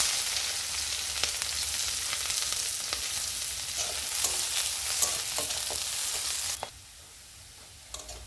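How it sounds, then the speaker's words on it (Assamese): Chopped onion and green chilli hit hot refined oil and fry with a loud, dense, continuous sizzle, close up, with occasional stirring scrapes and clicks. The sizzle drops slightly near the end. "এতিয়া মই সৰু সৰুকৈ কাটি থোৱা পিঁয়াজ আৰু কেঁচা জলকীয়াখিনি এড কৰিম"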